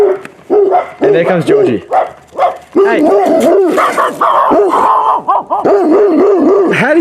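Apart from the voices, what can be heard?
dog barking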